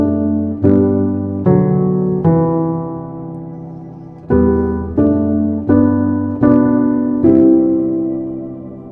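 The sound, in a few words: piano parts of Manger Throne played together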